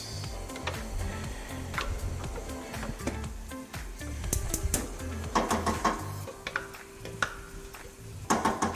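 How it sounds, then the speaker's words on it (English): Food is stirred in a cooking pot on the stove, making scraping and soft knocking strokes in an uneven rhythm, with sharper clicks of the spoon against the pot over a quiet bubbling background. "Yes, please stir."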